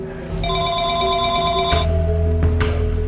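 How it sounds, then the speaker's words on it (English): Telephone bell rings inside a house, a loud bright electronic trill lasting about a second and a half, followed by a low rumbling hum and faint background noise. "I just heard a phone ring in this house."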